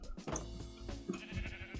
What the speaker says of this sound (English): Up here we got a little sheep farm